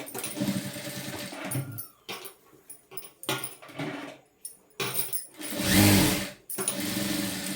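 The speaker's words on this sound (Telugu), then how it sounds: "ఇది లోపల మడత వేసి ఇలా స్టిచ్ వేసుకోవాలి" Sewing machine stitching a folded seam on a lehenga blouse, with short bursts of whirring stitches broken by pauses and one louder, longer run near the end; no talking.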